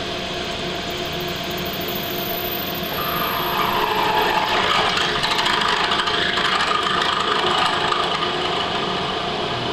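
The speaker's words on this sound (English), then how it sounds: "I'm gonna let the mill drill its own hole." A milling machine drills steadily into metal for an oil pressure adapter, a grinding whir that grows louder partway through and continues without a break.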